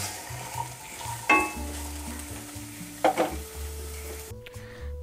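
Vegetables frying in a pan for noodles with chicken, a soft continuous sizzle broken by two sharp scraping stirs of a utensil against the pan, close and quiet, no talk.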